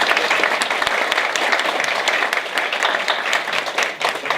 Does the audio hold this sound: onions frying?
no